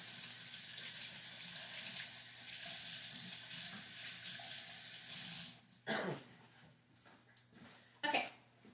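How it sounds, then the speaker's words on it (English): Tap water runs steadily into a sink for several seconds, then cuts off into short splashes and a few bursts as hands are rinsed, fairly close with no talking. "I gotta go wash my hands real quick."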